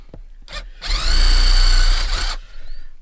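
A small power drill with a 3mm bit boring a pilot hole whirs in one steady, high-pitched burst lasting over a second, with brief mechanical taps just before and after.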